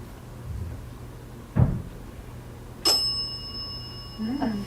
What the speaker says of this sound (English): Is that Ethel that just rang the bell?